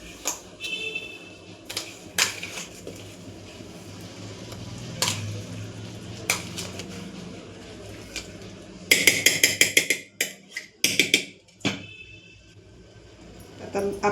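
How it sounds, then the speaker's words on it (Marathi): Rava cake batter made with semolina and milk is stirred in a bowl, giving rapid clinks and scrapes of a spoon against the sides, with louder bursts of tapping toward the end. "मिक्स करून घेऊया।"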